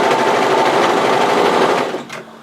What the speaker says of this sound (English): overlocking this at the bottom, and I'm going to make sure that the gusset's on the bottom